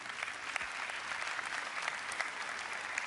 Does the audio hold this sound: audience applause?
yes